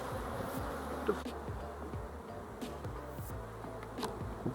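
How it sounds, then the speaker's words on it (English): Many bees buzz close by in a continuous, wavering drone, with individual insects sweeping past the listener now and then. "Stupid bees."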